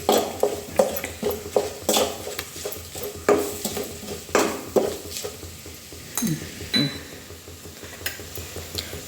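Onion garlic chutney and other ingredients are stirred together in a pan with a steady series of close scraping and clinking strokes against a light sizzle, roughly one every half second, with no talk.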